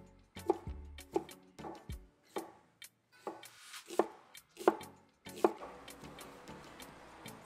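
A knife chops an onion on a cutting board for rouladen, about a dozen sharp, quiet knocks in an uneven rhythm, close and alone with no talk.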